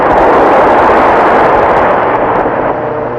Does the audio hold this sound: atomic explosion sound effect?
yes